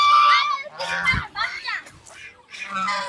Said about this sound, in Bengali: দেখেন কত রাজহাঁস আইসা বড়